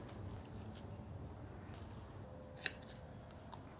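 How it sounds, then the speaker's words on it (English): Scissors cut tulle fabric to rough shape for a Halloween projector hologram screen, a few faint, soft snips and one sharper close click over a quiet room hum. "So I'm just going to try and cut this to rough shape here."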